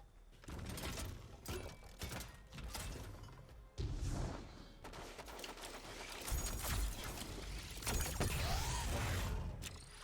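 Gjallarhorn rocket launcher firing in Destiny 2, several loud launches and blasts with crunching impacts and mechanical clatter, spread across a busy stretch of combat noise.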